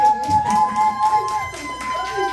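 Cheering and shouts from a bar audience at a singer's live show, a moderate, uneven crowd noise with scattered voices throughout.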